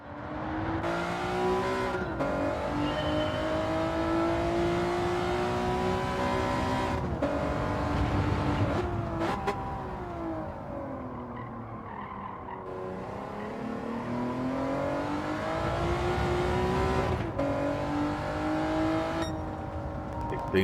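Race car engine in Gran Turismo 7 during a hairpin licence test, loud sustained revving that rises and falls through gear changes, with brief tire squeal.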